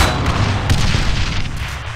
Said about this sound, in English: Under fire! Under fire! Enemy fire!